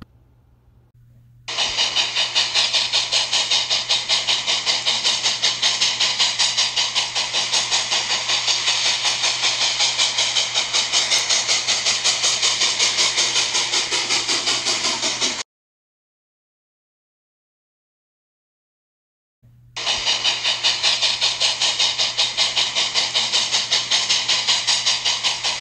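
Steady broadband hiss and rumble of a chugging steam locomotive running continuously, cutting out briefly to silence before resuming just as loud.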